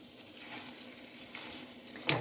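Tomato soup goulash with tomato sauce simmering and lightly sizzling in a pan, a steady soft bubbling hiss throughout with a brief clink of a utensil near the end, no talking.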